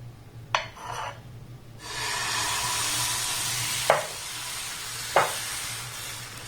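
Ladles of semolina and ripe mango batter hitting hot oil in a pan, sugar-free, a steady broadband sizzle swelling after about two seconds, with a few sharp scrapes or taps of the ladle on top; no talking.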